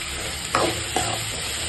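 Two brief sizzling bursts from tomatoes being stirred and sautéed in a hot pan, over a steady low kitchen hum.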